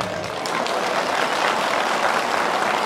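Steady, dense applause from a festival crowd in Kayabelen, Turkey, honouring mothers, a continuous wash of many hands clapping at even loudness.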